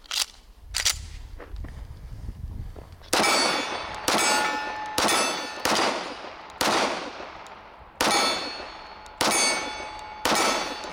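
A stainless Colt Gold Cup Trophy 1911 pistol fires shot after shot at steel targets, each crack followed by a ringing metallic clang. There are about nine evenly spaced shots, loud and close, with a few lighter hits at the start.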